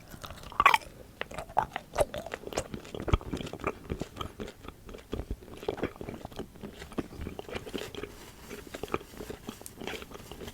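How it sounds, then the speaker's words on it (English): Close, intimate chewing of green wax candy with a jam filling, the wax gone soft and gummy: wet, squishy bites and smacks in an uneven rhythm, with a few sharper crunches early on. "So you can kind of hear it being like easier to chew because it's kind of like a bubble gum now after you chew up the wax"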